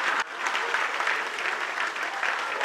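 Sustained audience applause for a singer at a Christmas concert in Brăila, a dense, steady wash of many hands clapping close by with a brief dip near the start, no talking.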